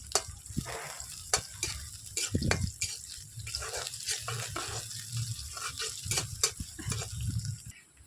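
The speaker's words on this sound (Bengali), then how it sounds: "পেঁয়াজটা ভাজা ভাজা এসছে" Onions fry in oil on a stove for a snakehead fish dish, a close crackling sizzle broken by repeated scraping and tapping of a spatula as they are stirred.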